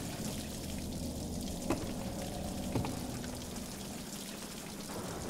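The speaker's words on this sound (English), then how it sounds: "The faucet's on." Faucet running in Bioshock Infinite, a soft steady pour of water with a couple of faint clinks, quiet and continuous with no talk.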